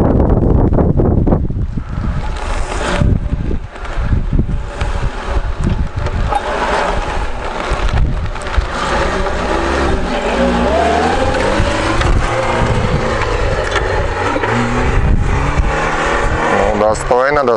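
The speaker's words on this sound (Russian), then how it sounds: "Посмотрим, как едет 31-я Нива." A Lada Niva driven nearby on a test run: a loud, rough engine roar with strong wind buffeting and rumble lasting throughout, as people talk over it.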